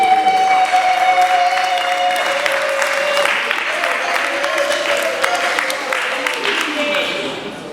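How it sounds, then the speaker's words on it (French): An audience at an evening Congolese community gathering in Drummondville, Canada, applauds and cheers for the president. The clapping is sustained and dense, with voices and cheers mixed in, and it fades slightly toward the end. "Est-ce qu'on peut acclamer pour Monsieur le Président?"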